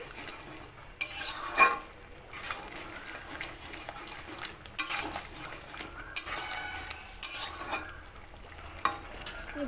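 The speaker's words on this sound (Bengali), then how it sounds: "ভেজে রাখা চিংড়ি মাছ চিংড়ি মাছটা দিয়ে মিশিয়ে নিচ্ছি" Fried prawns being stirred into a pan of cooking kochur loti, with repeated metal spatula scrapes and clinks over a soft sizzle, the stirring coming in uneven bursts.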